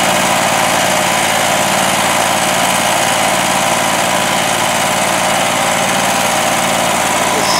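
A lawn mower runs continuously at close range on a thick, wet yard, a loud steady engine drone with no letup and no voices.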